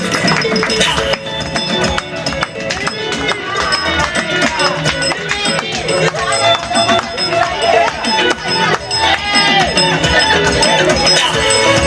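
Audience clapping and cheering at a devolution forum as a performer named Kibibi is called to the stage, dense sustained applause with crowd noise and voices throughout.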